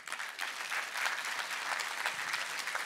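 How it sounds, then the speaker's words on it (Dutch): An audience at a children's university lecture claps, a dense, steady round of applause from a crowd, moderately distant and with no voices over it. "Ja, dank je wel voor jullie applaus ook voor Ben Vollaert."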